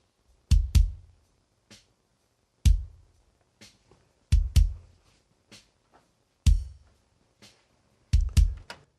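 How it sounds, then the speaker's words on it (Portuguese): Dry bass drum on mixer channel 1 with no gate or EQ, struck in short patterns of single and double hits with quieter ghost thumps between, each a deep punchy boom with clear silence around it. "Vamos ouvir um som de bumbo no canal 1."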